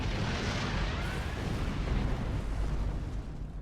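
A single overcharged phaser shot destroys a heavily damaged Borg sphere in the Star Trek Online video game, producing a loud, sustained roaring blast and rumble that fills the whole moment with no voices.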